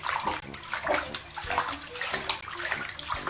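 A young puppy learning to swim splashes and sloshes continuously in water, with steady close-up splashing throughout.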